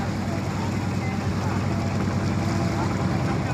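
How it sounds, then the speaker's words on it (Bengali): A steady, droning trawler engine hums continuously close by on a river, with a low rumbling throb and no pauses. "আবার ট্রলারে যাত্রা করলাম"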